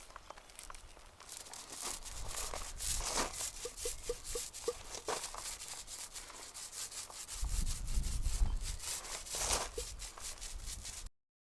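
A brush scrubs and rubs as blacking coat is applied to a narrowboat hull, giving steady close scraping strokes with a few sharper scuffs throughout.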